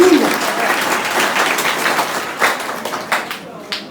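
Audience applause breaks out for the speaker's father at a community celebration in Saint-Pierre, a dense burst of many hands clapping that thins into scattered claps and fades over a few seconds.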